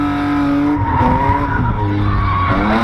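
A car skids with loud, sustained tire squeal and wavering engine tones, the sliding pitch bending up and down as it drifts close by.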